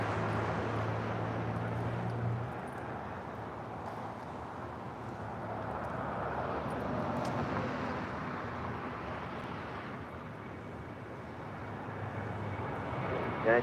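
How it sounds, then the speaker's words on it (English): An Aeromexico Boeing 737-800 taking off at LAX, a sustained broad jet engine roar that swells and fades gently over many seconds from a distance, with a low steady hum beneath. "Next takeoff is Aeromexico flight 783 heading to Guadalajara in a 737-800"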